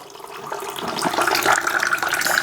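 Water being poured into a glass as part of a home remedy preparation, a short, close, splashy stream that rises in fullness over a couple of seconds.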